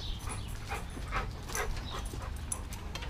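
Dog fussing over having its face wet outdoors, with soft whimpers and short yips over a low rumbling background, close and moderately loud.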